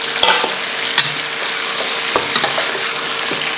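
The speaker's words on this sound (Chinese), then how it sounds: "料炒香后下排骨" Pork ribs stir-fried in a hot wok with bean paste, spices, dried chili, scallion, ginger, garlic and hotpot base: steady loud sizzling, broken by sharp scrapes and clacks of the spatula against the pan.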